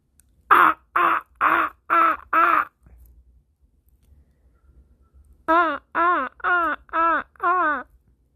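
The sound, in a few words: crow cawing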